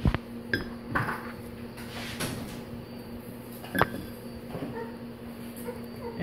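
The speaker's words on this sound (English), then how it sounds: "You can slice it." Dragon fruit being sliced with a knife on a kitchen surface, giving several sharp clinks and taps spread irregularly over a steady low hum, fairly close and moderately loud.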